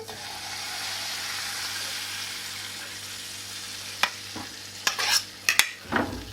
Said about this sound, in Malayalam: നമുക്ക് ഇതിലേക്ക് നമ്മുടെ മാവ് ഒഴിച്ചു കൊടുക്കാം.